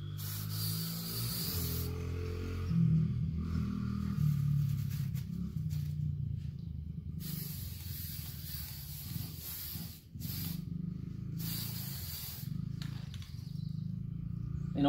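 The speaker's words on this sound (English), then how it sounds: "stand back when you spray paint it" Bursts of aerosol spray paint hissing on and off as car brake calipers are painted, with short pauses between passes, over a steady low background hum.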